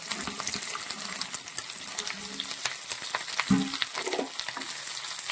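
Ginger and green chilli rounds sauté in oil for bitter gourd pickle, a close, busy sizzle and crackle broken by the clatter of a stirring spoon, with one louder scrape midway and no talking.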